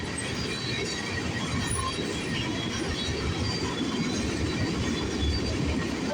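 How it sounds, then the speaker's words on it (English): CN freight train 301 gathering speed as it rolls past the VIA station in Sarnia, Ontario: a steady, close, loud rumble of railcars and wheels on rail with no talking. "Now the train's starting to pick up speed as it goes through by"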